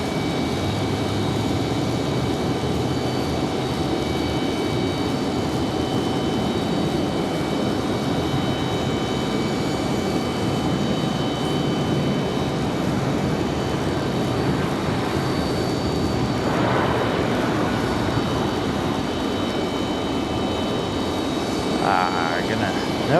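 Airplane passing at Raleigh Durham International Airport, a steady, loud engine roar and broadband rush that holds for the whole stretch, with faint radio-like voices under it.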